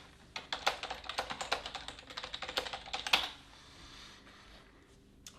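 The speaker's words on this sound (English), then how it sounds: "I'm typing passwords here" Rapid typing on a computer keyboard, with close, crisp clicking keystrokes in irregular bursts that speed up and then taper off toward the end.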